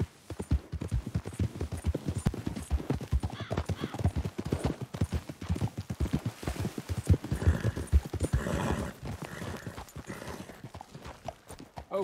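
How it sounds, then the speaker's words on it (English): Horses walking in Red Dead Redemption 2, with a steady, dense clip-clop of hooves close by throughout and occasional snorting and whinnying mixed in. "Best leave the horses back a bit."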